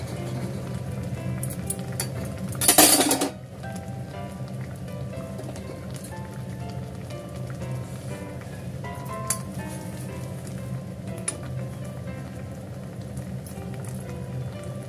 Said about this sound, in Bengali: আলুগুলো দিয়ে দেবো।